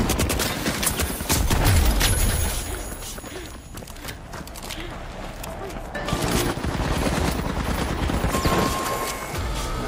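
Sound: Model 1887 shotgun firing in a video game

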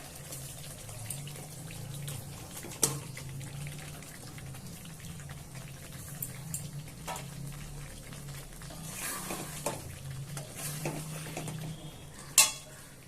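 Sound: cauliflower added to spice masala in pan, stirred

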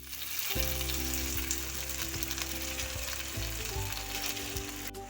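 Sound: tempering cumin, mustard seeds and curry leaves in hot oil

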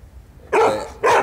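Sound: small dog barking

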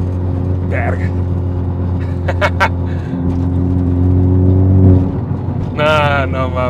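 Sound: Honda Type R car engine revving

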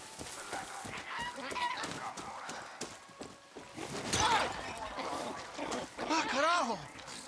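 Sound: rooster clucking in video game Far Cry 6

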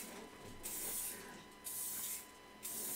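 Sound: spray painting a tumbler

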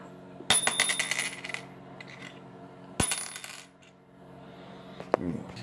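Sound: gold coin dropped and ringing

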